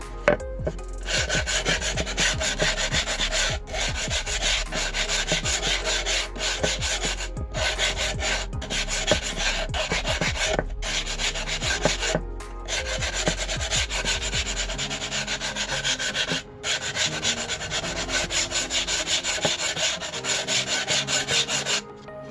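Continuous scratchy rubbing of sandpaper on the cut edges and corners of a scrap-wood tray, in quick back-and-forth strokes with brief pauses, close and steady for the whole stretch.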